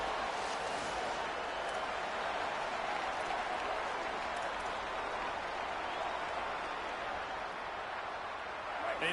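Dense, steady roar of a stadium crowd at an Alabama college football game in a video game, continuous and loud throughout with no individual voices standing out.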